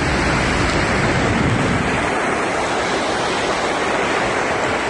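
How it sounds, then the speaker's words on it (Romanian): Floodwater rushes loudly during heavy rain in Romania's flooded Bacău county, a constant close roar like a torrent or waterfall with no voices. "Vine apă de pe toate pozițiile"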